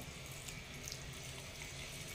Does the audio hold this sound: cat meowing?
no